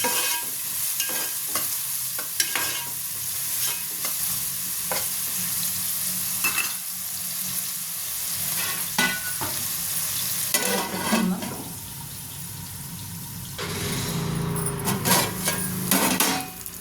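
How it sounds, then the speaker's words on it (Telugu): Chopped onions fry in a pan for an Andhra-style fish and raw mango curry, giving a steady close sizzle broken by repeated spatula scrapes and stirring knocks, with louder bursts of crackle near the end and no talking. "ఉల్లిపాయలు వేగింది"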